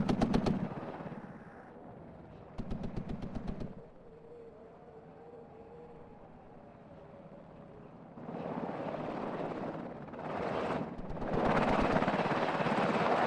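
Black Hawk helicopters in the video game WARNO, rotor thump beating in bursts, with rapid machine-gun fire and a steady engine drone that grows louder and fuller toward the end.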